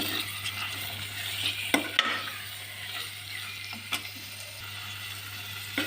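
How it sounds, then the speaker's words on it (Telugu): Raw prawns stirred into ginger-garlic masala frying in a pan: a steady close sizzle with occasional scrapes and knocks of the spoon, no talking. "ఇప్పుడు పచ్చిరేలు వేసేసుకుందాం వేసుకుని ఒక్కసారి కలుపుకుందాం"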